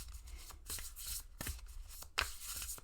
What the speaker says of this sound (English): I'm going to pull 3 cards